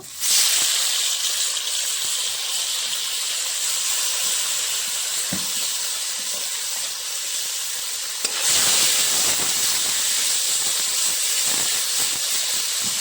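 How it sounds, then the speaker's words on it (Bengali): Small fish frying in a little oil in a pan for a Bengali chorchori: a loud, steady hiss and sizzle throughout, with a brief dip and then a renewed burst of sizzling partway through. "বাকি মাছগুলো এইভাবে ভেজে নেব।"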